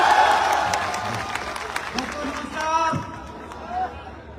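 An audience at an inspirational speech event claps loudly, and the applause gradually tapers off over a few seconds amid crowd murmur.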